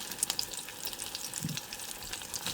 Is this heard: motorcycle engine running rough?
no